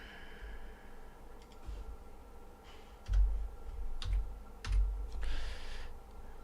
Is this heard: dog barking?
no